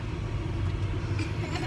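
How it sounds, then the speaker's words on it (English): Steady low rumble of a car driving along, engine and road noise heard from inside the cabin, continuous and even throughout. "So right now we're driving."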